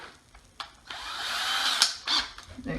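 A power drill drives screws into wood for a kids' rustic mug rack project, whirring in bursts that rise and stop with short pauses between, close and fairly loud, with no talking.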